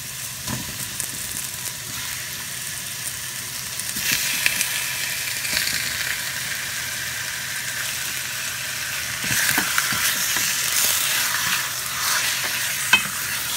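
Chicken sizzles and fries in a pan with onion, garlic and ginger for tinola, a steady crackling hiss broken by louder bursts and scraping as it is stirred.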